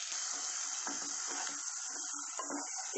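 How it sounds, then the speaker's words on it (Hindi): Mustard seeds and cumin sauté in hot oil with a soft, close hiss and scattered light crackles that fade in and out over a few seconds. "तेल गरम हो चुका है। इसमें डालिए 1 टीस्पून राई, आधा टीस्पून जीरा, हल्का सा सौटे कर लें।"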